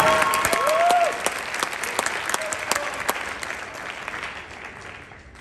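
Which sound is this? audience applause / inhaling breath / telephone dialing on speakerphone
audience applause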